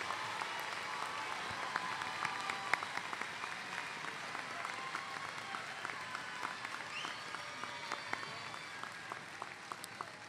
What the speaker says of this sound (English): Please join me in applauding the accomplishments of these students.